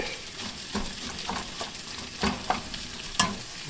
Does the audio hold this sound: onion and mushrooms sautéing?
yes